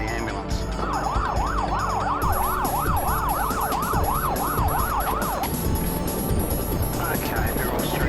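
Ambulance siren wailing loudly in a steady up-and-down sweep for several seconds, close by in traffic with engine and road noise underneath, then cutting off and leaving street rumble, with voices talking over it.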